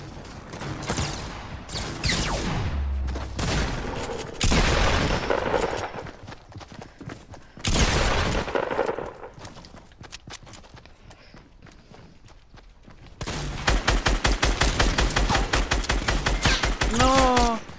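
Fortnite match with rapid bursts of gunfire, rocket blasts and explosions, loud and close, broken by quieter stretches and footsteps, ending in a dense rattle of automatic fire.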